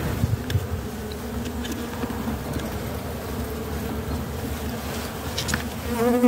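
Honey bees from a single-frame colony with its old queen left in the former hive, buzzing steadily around the opened box, a close continuous drone with individual bees flying past.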